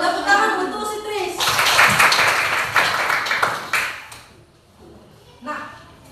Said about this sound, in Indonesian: Tepuk tangan untuk si Tris